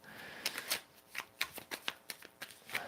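Well-used tarot cards are riffled and shuffled by hand in a quick series of soft, crisp flicks and slaps, close and fairly quiet, with no talking.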